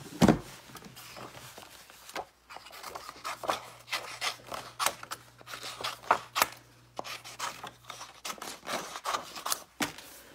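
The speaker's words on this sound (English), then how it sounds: "Now, you guys have to watch me fussy cut just a little bit." Scissors fussy-cut around a stamped paper star image, a close run of quick snips and rasping paper rubs that grow denser and more rhythmic, with no talking.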